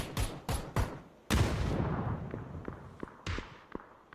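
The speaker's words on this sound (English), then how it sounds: "Second nade goes in." Grenades explode in a PUBG match: several sharp blasts in quick succession, then a bigger booming explosion with a rumbling tail, followed by scattered fainter pops and cracks.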